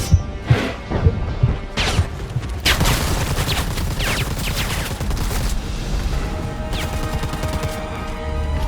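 Rapid gunfire in Predator: Hunting Grounds on PS5 rattles out in loud, sharp shots, a few heavy cracks at first giving way to a continuous dense barrage.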